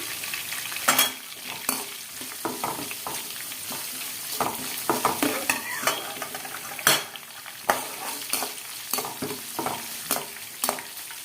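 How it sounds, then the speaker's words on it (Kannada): Green chilies and fresh curry leaves frying in oil in a pan, a close crackling sizzle with frequent sharp scrapes and clinks of a spoon stirring against the metal. "ಹಸಿಮೆಣಸಿನಕಾಯಿ ಹಾಕ್ಕೊಂಡಿದ್ದೀನಿ. ಇದು ಫ್ರೈ ಮಾಡ್ಕೊಳ್ಳೋಣ."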